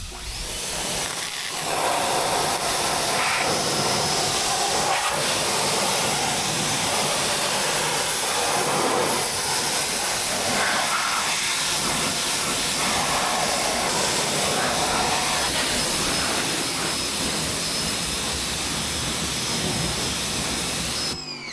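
An electric pressure washer sprays water onto a Toyota GR86 during a post-race wash, producing a loud, steady hiss that continues without a break throughout.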